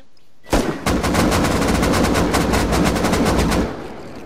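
Sustained automatic gunfire in a video game: one continuous, loud, rapid burst of shots lasting about three seconds, close and with no talk over it.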